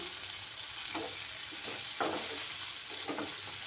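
Chopped tomato frying with eggplant in a pan gives a soft, steady sizzle with a few gentle stirring bumps, quiet and close.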